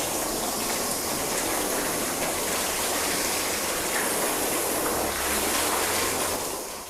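Hose water sprays steadily over a car panel after a contact wash, a loud continuous rushing hiss that stays even throughout with no pauses or voices.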